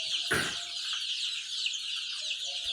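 Dense, continuous high-pitched chirping from many young Australorp chicks in a brooder warmed by lamps, with one brief soft thump near the start and no voices.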